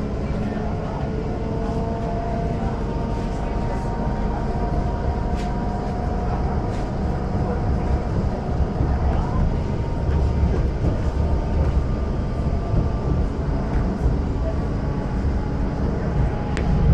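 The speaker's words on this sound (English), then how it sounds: "Train we took from Matterhorn station." A steady train rumble near Zermatt, Switzerland, rolls on with a continuous low roar and faint rhythmic clatter, close and fairly loud throughout.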